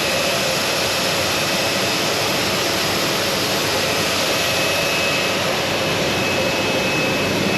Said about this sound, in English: So this one is a warm air to dry up the bottle.